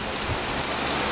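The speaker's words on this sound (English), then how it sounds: "is raining really bad." Heavy rain pouring down at an outdoor market, a dense, steady hiss of drops hitting surfaces that fills the whole moment without pause.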